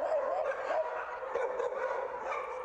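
Several dogs barking and yipping inside a pet hotel, a close, busy, overlapping chorus of barks and whines with no break across the whole stretch.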